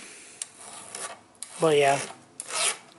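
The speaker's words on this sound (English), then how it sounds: "I'm gonna go ahead and just sharpen this whole chain" A hand file sharpens a chainsaw chain in close, rasping strokes with brief pauses between them, while someone speaks briefly.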